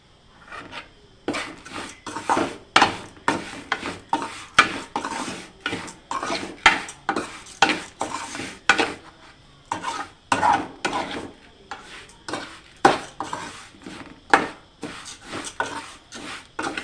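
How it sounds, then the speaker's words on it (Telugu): Semolina and grated coconut are stirred and roasted in a pan, a spoon scraping and rasping in a steady repeating rhythm, close and fairly loud, with faint sizzling underneath. "ఇది కొంచెం వేగిపోయిన తర్వాత కొబ్బరి తురుము వేసుకొని వేపుకోవాలండి."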